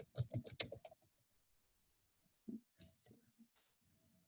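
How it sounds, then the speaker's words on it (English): Quick burst of typing on a computer keyboard, a dense cluster of close clicks, then a pause and a few scattered, fainter keystrokes, quiet overall with no talk. "this is where I can type in Brockville"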